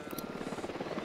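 Helicopter in the video game Ghost Recon Wildlands, a steady rotor thump with a pulsing rhythm, fairly loud and close, running continuously throughout.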